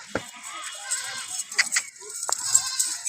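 Barbari teddy goats bleat on a goat farm, with several sharp, scattered calls at varying distances over a low background murmur.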